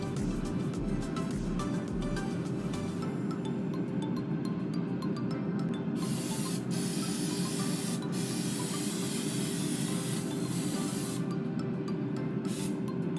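Olive oil sprayed onto turned-over egg rolls for a pizza egg roll recipe, a continuous close hissing spray with a few brief breaks, layered over the steady low hum of a running air fryer.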